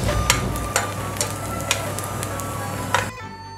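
Shrimp cakes pan-fry in a little oil in a wok with a soft, even sizzle, punctuated by several sharp taps as they are turned. The frying stops suddenly just before the end.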